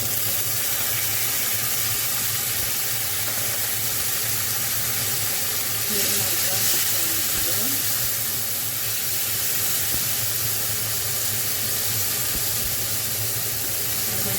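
Chopped tomato sautéing in a pan for a Jaffna-style egg omelette curry, a steady broadband sizzle and hiss that holds evenly for the whole stretch, close and fairly loud with no talk over it.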